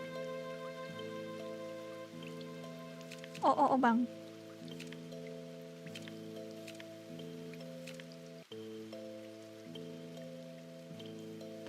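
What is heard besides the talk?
rain falling in a video game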